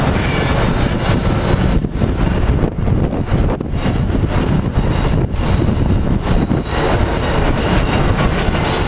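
A regional passenger train hauled by locomotive AM 7 905 arrives, a loud, steady close rumble of wheels and rail noise that carries throughout without voices.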